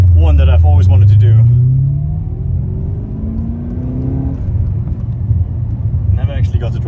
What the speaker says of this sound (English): Car sounds fantastic.